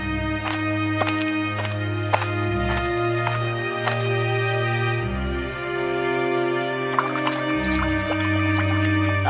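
Drinking water poured in a cartoon scene, a steady liquid stream with dripping detail over a soft musical background, continuing for several seconds before a brighter splash near the end.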